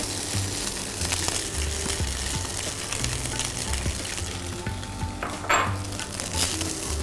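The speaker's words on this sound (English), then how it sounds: "We'll just allow this to cook for a few seconds with the garlic and the ghee." Cooked rice frying with garlic, ghee and oil for sesame rice, a loud close sizzle with scraping stirs and a brief burst of spattering near the end, no speech.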